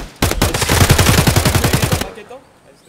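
A rapid automatic burst from an M4 rifle in Escape From Tarkov fires about twenty close, loud shots in quick rhythm for nearly two seconds, then cuts off into faint echo.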